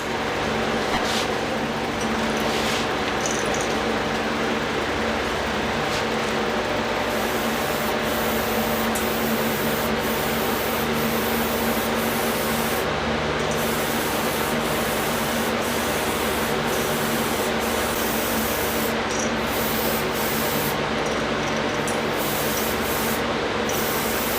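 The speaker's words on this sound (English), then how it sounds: "that's all the clear coat I had mixed up" An airbrush sprays Tamco 9500 clear coat onto a swim bait fishing lure, a steady loud hiss that runs unbroken for the whole stretch with brief tonal changes as the trigger shifts.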